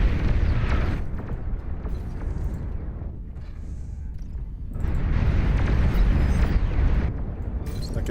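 Long-range plasma cannon in a video game firing in heavy, sustained booming blasts, loud and rumbling throughout with a brief dip mid-volley before the barrage resumes.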